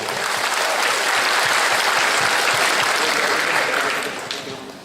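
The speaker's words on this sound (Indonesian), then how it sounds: "Tepuk tangan buat warga Bandung." Bandung residents applaud at a biopore appreciation gathering, a loud, dense wash of clapping from a large crowd that swells steadily and then tapers off near the end.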